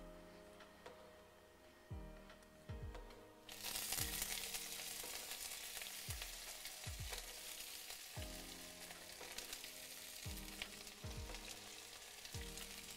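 Vegetables, including carrots, stir-frying in a little oil over high heat for a sticky salmon stir fry, with a steady loud sizzle, sharp clatters of tossing and stirring at a regular rhythm, and no talking.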